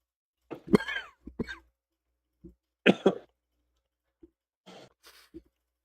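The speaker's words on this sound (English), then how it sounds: "We're all coughing and snotting." Several people cough in short, harsh bursts with brief gaps between them, close and fairly loud against a silent background.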